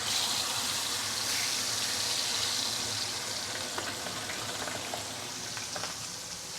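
Steady, loud sizzling of stingray frying in hot oil in a 28 cm pan, a continuous crackling hiss with occasional pops throughout.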